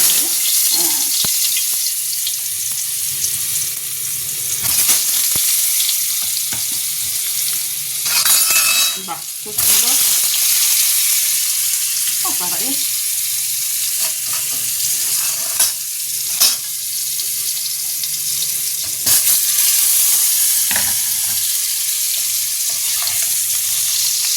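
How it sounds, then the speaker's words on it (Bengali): Potatoes fry in oil seasoned with turmeric for a spicy red mutton dish, a steady close sizzle running throughout with occasional stirring clatter and brief louder bursts. "তেল দিয়ে দিয়েছি আর একটু হলুদ দিয়ে দিয়েছি কারণ আলুটা ভাজবো"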